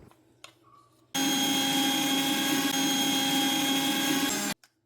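A kitchen mixer grinder crushes peanuts for peanut butter, starting abruptly after a few quiet clicks and running with a loud, steady motor whine for about three seconds before cutting off.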